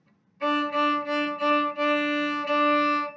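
A bowed string instrument plays a short run of notes in a long-long-short rhythm, clear and close with no talking.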